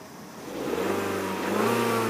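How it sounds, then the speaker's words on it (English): A 1999 Kia Sephia Base engine runs steadily up close, its low hum rising in level after the first moment and holding a continuous tone with no talking. "I'll let you listen to the engine."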